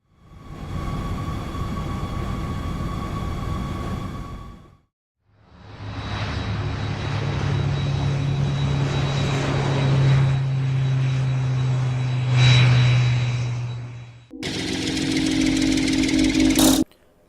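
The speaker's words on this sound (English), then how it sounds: "Jet fighter." Jet fighter engine roar in three loud sections split by short gaps, with a steady whine over deep rumble and a harsher final burst before a sudden stop.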